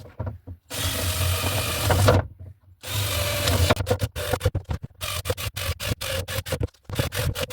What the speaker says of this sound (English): I'm just going to take that off and drill it ready for fixing.